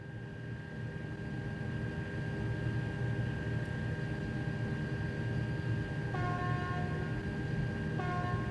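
A constant low diesel engine rumble with mechanical hum as a train starts to move in Train Sim World 2, with short horn-like tones sounding near the end, close and steady.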